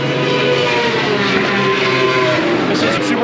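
Superbike motorcycles at full throttle during qualifying at Barber Motorsports Park, a dense, steady high-revving engine roar filling the air with no break.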